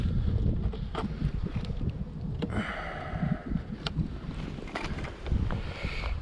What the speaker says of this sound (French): Apparemment, il y a des petites bourrasques de vent qui sont assez chiantes.